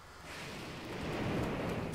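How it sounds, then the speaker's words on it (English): A rolling rumble of thunder in Zelda Breath of the Wild, swelling from a low roar into a louder, sustained boom over a rain-like wash, with no voices. "Why does thunder go for me?"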